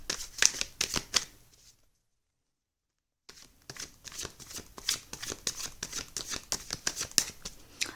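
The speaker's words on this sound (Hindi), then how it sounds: "चलिए शफल शुरू करते हैं।" Tarot cards are shuffled by hand close up in rapid papery riffles and flicks, broken by a couple of seconds of silence before the shuffling resumes, with no voices.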